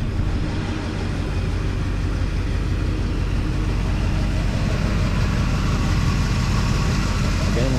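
A 1968 Oldsmobile 442 engine idles in a steady, even rumble heard close by, with no audible knocks or ticks and no talking over it.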